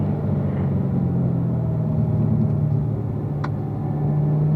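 Race car on a track downshifting once mid-corner, the engine a steady mid-pitched drone with a brief rising blip near the end, heard from inside the cabin without talk.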